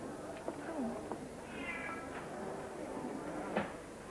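A faint cat meow rises briefly over a muffled indoor background with scattered soft clicks and shuffles.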